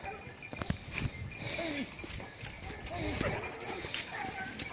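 Hunting dogs chase a wild boar through a park, barking and yelping at a distance while footsteps and rustling move closer, with people talking over the scene.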